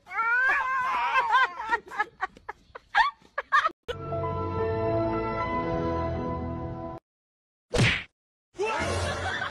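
A cat gives a string of loud, close, wavering meows and yowls, then a long sustained droning cry, followed by short sharp bursts of noise and a person's gasping voice.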